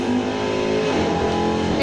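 A Land Rover Range Rover Sport SVR from 2015 revs its engine in a racing video game, producing a steady, loud, droning engine tone with layered harmonics that holds throughout without a break.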